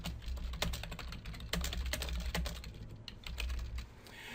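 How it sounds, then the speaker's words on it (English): Typing on a computer keyboard while adding a text comment in Adobe Acrobat Reader, a steady run of close, crisp key clicks with a few brief pauses and no talking. "and start typing"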